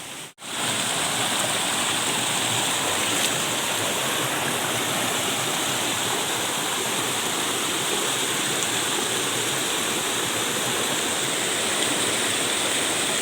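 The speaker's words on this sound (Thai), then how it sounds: "ป้ายน้ำตกชั้นที่ห้า เป็นน้ำตกเล็ก ๆเหมือนเดิม แต่น้ำใสเย็นดีนะ" Small waterfall at Khao Sip Ha Chan in Chanthaburi, Thailand, pouring clear, cool water in a steady, dense rush close by, continuous and unbroken throughout with no voices.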